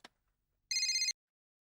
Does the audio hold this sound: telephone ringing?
yes